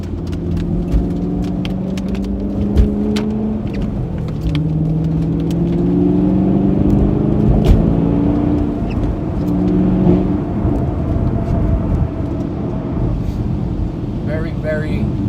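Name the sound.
Chevrolet Camaro 1LE accelerating on a wet road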